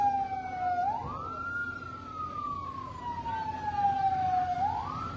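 Fire truck siren wailing through a town in Thakhek on New Year's Day during a building fire, a slow rising and falling tone over steady traffic rumble, moderately distant and without speech.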